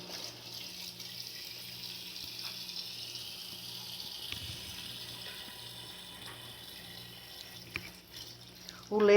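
Water runs steadily into a cooking pot for tripe, a continuous splashing pour under a low hum, ending with a louder clatter.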